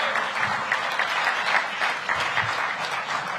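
An audience gives Fred Gray a round of applause after an interview, a dense, steady wash of clapping that stays loud and even throughout with no voices on top.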